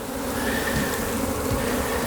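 Dense, steady swarm of honeybees buzzing close by during a hive rescue, a continuous loud drone with no talk.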